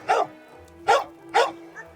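A Staffordshire terrier crossed with a pit bull barks from its enclosure by a dense forest: three loud, evenly spaced barks close by, with no talk.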